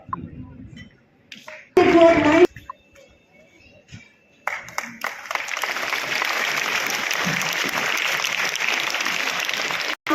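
Audience at a school results ceremony for CBSE exam achievers applauds; after quiet stretches with brief bursts and speech, a broad wash of crowd clapping takes over and continues steadily to the end.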